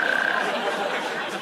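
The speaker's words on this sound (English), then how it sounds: "What is the toad trying to say in that call?" A natterjack toad calls with a loud, rasping, continuous croaking trill, with faint voices murmuring beneath it.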